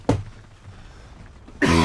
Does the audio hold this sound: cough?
yes